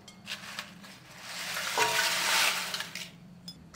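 Dry onion skins are tipped into a cooking pot, making a soft, crackling rustle that swells for about a second and then fades. The sound is close and fairly quiet.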